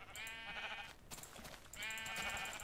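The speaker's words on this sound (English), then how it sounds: "Damn, look at all these fucking sheep." Sheep in the video game Minecraft bleat twice in quick succession, each a faint, wavering cry with a short gap between.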